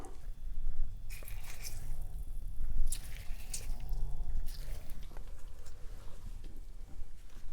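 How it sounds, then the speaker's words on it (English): Soft, wet squishing and squelching as rehydrated mushrooms are squeezed by hand, quiet and close with small pattering drips. "Pick up a handful of mushrooms and squeeze excess water."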